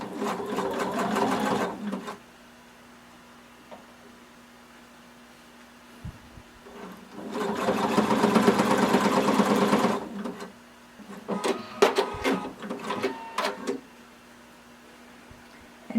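A sewing machine stitches an elastic leg casing on a swimsuit in three separate runs, a long opening burst, a steady middle stretch and a choppier stop-start finish, with a faint motor hum in the pauses.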